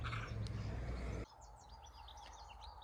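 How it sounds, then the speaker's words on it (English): Birds chirp and twitter in the distance, faint, after a burst of louder rumbling background noise cuts off. "the birds are getting louder"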